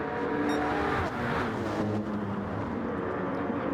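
Honda NSX race car engines at Monza in Gran Turismo 7, two cars battling closely with a steady high-pitched engine drone and shifting pitch as they accelerate, loud and continuous throughout.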